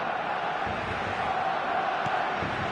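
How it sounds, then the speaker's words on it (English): A football crowd calls out at a match, a dense, steady roar of many voices that stays level throughout with a faint swell near the end. "The crowd are calling for this to be put to bed."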